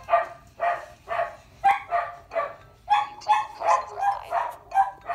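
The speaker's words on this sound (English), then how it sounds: "And dog in the background." A dog barks in the background, roughly a dozen sharp barks in a steady repeating rhythm at moderate volume, with no talking over it.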